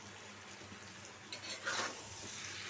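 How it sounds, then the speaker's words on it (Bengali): A bottle gourd and shrimp curry is stirred and sautéed in a pan, giving a faint steady sizzle with a brief louder scrape or stir midway. "পাঁচ মিনিট কষানো হোক চলো আরও কমাই দিছি"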